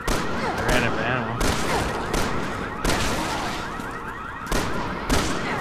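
Gunfire in the Resident Evil 6 video game: loud, repeated bursts of shots with short pauses, over busy game noise and overlapping talk.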